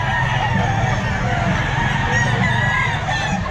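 A young rooster (stag) crows at a busy outdoor pet market, a short strained call that rises over constant crowd chatter and other birds clucking nearby.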